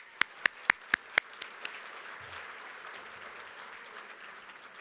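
At a fire department recognition banquet in a ballroom, a few loud nearby claps ring out one after another, then a softer spread of applause from the room trails off.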